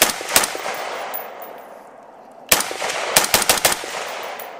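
Sharp, loud rifle shots from a rifle fitted with a Triggertech 3.5-pound competition trigger: a couple of close cracks, a pause, then a cluster of several quick shots echoing outdoors, with no talking.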